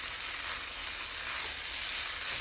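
Rice, canned corn and mixed vegetables sizzle steadily in a hot pan while a spoon stirs them, a dense, even frying hiss with no talking, close and continuous throughout.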